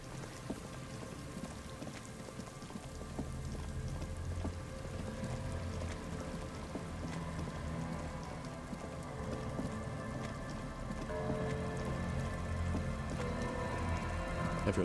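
Steady rain falls in the video game Disco Elysium, a soft continuous hiss with scattered drops, fairly quiet and unbroken, with no voices over it.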